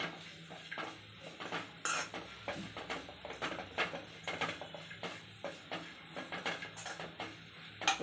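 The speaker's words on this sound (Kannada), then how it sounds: "ಇದನ್ನೊಂಚೂರು ಎಣ್ಣೆಯಲ್ಲಿ ಫ್ರೈ ಮಾಡ್ಕೊಬೇಕು." Fresh grated coconut fries in a little oil while a metal spoon stirs and scrapes the pan. Quick, rhythmic clattering runs over a faint sizzle, nearby but soft, with no voices.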